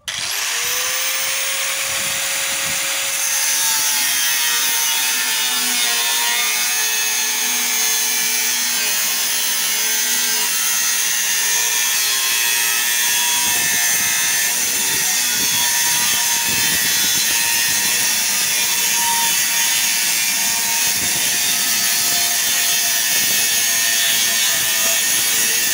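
A large angle grinder cuts steadily at close range while building a water tank, a continuous high whine with a harsh grinding edge that holds for the whole stretch without pause.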